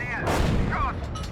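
A tank cannon in the Gunner HEAT PC combat game fires with a loud, sudden boom followed by a rumbling decay, with electronic beeps and interface tones around it.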